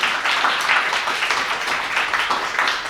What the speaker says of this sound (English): That's real applause.